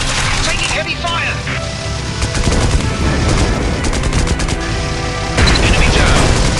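Dense, continuous gunfire rattles through a flight video game, loud bursts layered almost without pause and intensifying near the end, with voice callouts over the shooting.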